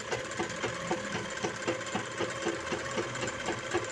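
A sewing machine stitches the waistband of a blouse, running steadily and close with a quick, even, repeating mechanical chatter throughout.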